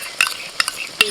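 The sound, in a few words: whisked salted sour yogurt added to frying biryani spices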